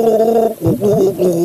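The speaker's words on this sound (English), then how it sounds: "It's time to guess this gargle." A person gargles close up, a short loud bubbling rattle of liquid in the throat lasting under two seconds, with a brief dip in the middle before the wavering gurgle resumes.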